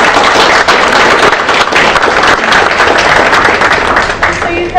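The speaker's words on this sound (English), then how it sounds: "How about another round of applause for us?" An audience at a summer student program event applauds. The dense, loud clapping carries on steadily from start to finish.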